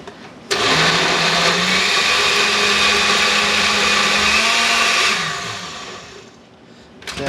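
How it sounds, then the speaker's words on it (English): A kitchen blender whirs loudly and steadily for about four and a half seconds, pureeing old fruit with juice for fruit leather, then winds down and fades. "You want to leave enough juice in there where when you put this thing on your blender"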